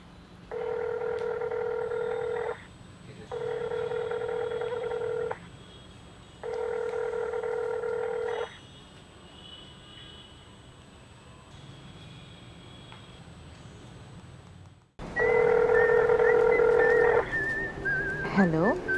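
A telephone sounds three evenly spaced tonal bursts, each about two seconds long, with a steady faint tone in between, then a louder, closer tone burst follows after a sharp cut.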